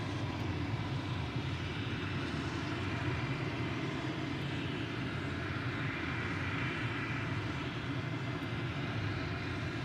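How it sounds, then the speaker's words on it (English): Airbus A380 airliner on the move at Glasgow airport, a steady loud broadband engine roar and rumble holding evenly throughout without pause. "next departure is the A380 to Dubai. It's on the move."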